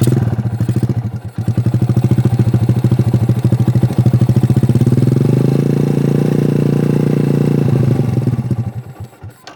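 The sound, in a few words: motorcycle engine started and running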